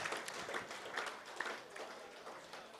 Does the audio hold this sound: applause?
yes